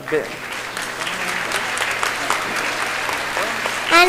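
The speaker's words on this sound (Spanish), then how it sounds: "Fuerte aplauso" Loud applause from a church or Bible-class audience, steady clapping for about four seconds, with a voice speaking over it near the end.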